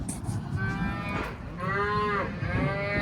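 Cattle bellow and moo close by while they are loaded for shipping on a Texas ranch, with long, drawn-out calls rising over a steady rumble of livestock movement and no talk.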